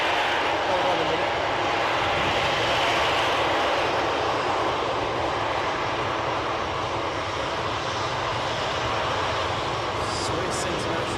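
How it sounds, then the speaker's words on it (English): Loud, sustained jet roar from a Swiss International Air Lines Airbus A321 at Edinburgh airport, a dense steady rush of engine noise filling the whole stretch without letting up. "Swiss International Airways A321."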